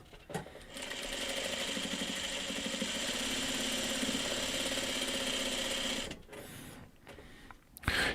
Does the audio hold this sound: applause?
no